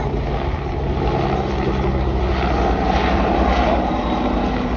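A Fairey Swordfish biplane flying past at an airshow, its propeller engine a loud, steady, rough drone held throughout with no voices over it.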